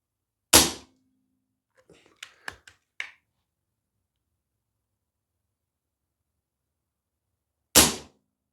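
Snowpeak AP900 air rifle firing pellets at a target: two sharp, isolated cracks several seconds apart, with a few faint clicks and taps of handling in between, close and otherwise quiet.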